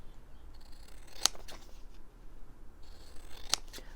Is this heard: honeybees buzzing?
no